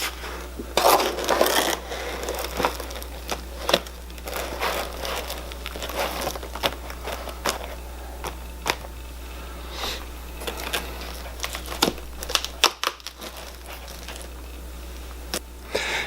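A backdrop is swapped in a photo studio light box, with a white background snapped off and a cream one fitted: scattered close clicks, snaps and crinkling fabric handling, alone without talk, over a low steady hum.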